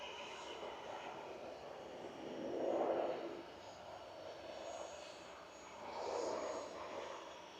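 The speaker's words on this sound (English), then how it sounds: "ATR 42 from Inverness for Logan Air here with flight 597 GLMRB." A Loganair ATR 42 turboprop from Inverness drones faintly at Manchester Airport, its engine noise distant and low, swelling twice and fading back.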